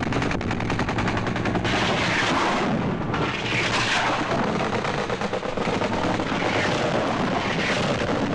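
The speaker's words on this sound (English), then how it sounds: "Huey gunships, armed helicopters follow the artillery in, raking the landing zone with machine guns and rockets" Huey helicopter gunships in Vietnam fire machine guns and rockets: relentless rapid gunfire and booming blasts merge into a loud, continuous barrage, with rattling bursts layered over deep rumbling explosions.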